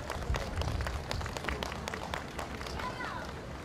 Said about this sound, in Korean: 여러분 뜨거운 박수로 환영해 주시죠